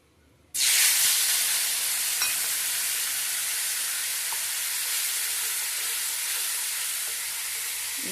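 Spice paste for doi potol hits a hot pan with a sudden loud sizzle, then fries in a steady, close hiss while being stirred, with faint scrapes beneath and no talking.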